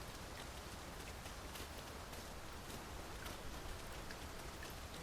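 Steady rain falls in Dragon's Dogma 2, a dense, even hiss with scattered droplet patter, constant and fairly loud throughout with no voices.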